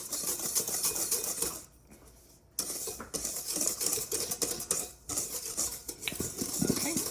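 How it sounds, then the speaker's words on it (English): A whisk beats cake batter ingredients together in a bowl, producing fast, close scraping and clinking against the sides in several bursts, with short pauses between and no talking. "we're going to take a whisk and we're going to mix it all together"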